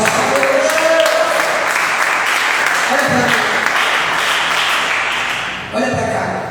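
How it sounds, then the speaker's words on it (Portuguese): Applause from a church congregation during an evangelical midweek spiritual warfare service, a sustained, dense clapping that fills the room for several seconds and thins slightly near the end, with a voice speaking over it. "Aplaude mais uma vez, nosso Deus."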